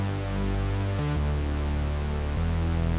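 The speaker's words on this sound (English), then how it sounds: "So that is basically how you put together a Reese Bass for drum and bass genre music" A Reese bass synth patch built in Serum with a sub bass layer for drum and bass: a sustained, loud, buzzing low drone that shifts pitch twice, heard alone.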